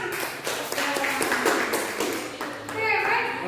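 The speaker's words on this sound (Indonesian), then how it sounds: "sekarang jawabannya tepuk tangan" High school students in an Indonesian classroom clap together, a brisk burst of hand claps with children's voices mixed in, fairly close and lively, settling into chatter near the end.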